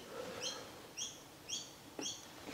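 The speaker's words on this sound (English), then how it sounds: "Those birds are certainly noisy." Birds chirp outdoors in repeated short bursts, about four calls spaced roughly half a second apart, fairly near and clear over quiet background.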